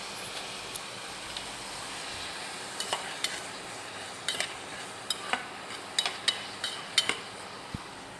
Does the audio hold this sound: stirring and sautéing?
yes